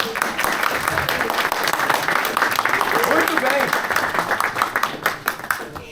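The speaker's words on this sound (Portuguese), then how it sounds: "vamos dar uma nova salva de palmas aí" Applause from an audience for a speaker at a talk, a dense steady wash of clapping throughout with some voices mixed in, thinning slightly toward the end.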